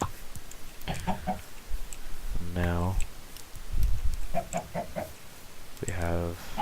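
Minecraft chickens on a game chicken farm give a few scattered clucks and two rising squawking calls, heard under someone speaking briefly over the game sounds.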